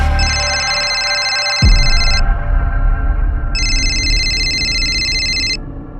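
An electronic phone ringtone trills in two long bursts separated by a pause, loud and close, with a low rumbling background underneath.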